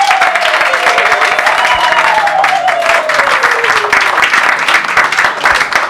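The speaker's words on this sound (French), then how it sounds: "On applaudit." A crowd at a civil wedding ceremony breaks into sustained applause, dense clapping filling the room for several seconds, with a long sliding whistle or cheer rising over it.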